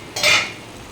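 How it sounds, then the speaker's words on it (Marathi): A lid set on a pot of pumpkin curry cooking on the stove: one brief metallic scrape and clink, close and fairly loud, fading into faint kitchen background. "झाकण ठेवू आपण"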